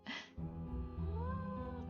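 A cat meows once in the Nancy Drew game Mystery of the Seven Keys, a short rising and falling cry heard clearly over a steady, low musical background.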